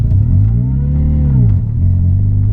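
Supercharged Ford Ka pulling hard in second gear, a steady loud engine drone whose pitch sweeps up, dips and climbs again through the run.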